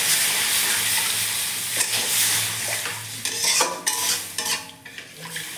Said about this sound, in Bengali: এবার আমি জল অ্যাড করছি এর মধ্যে